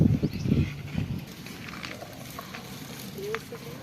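Urad flour going into hot ghee while adadiya is being made, giving a soft frying sizzle with some stirring. It starts a little louder and then settles to a low, steady hiss.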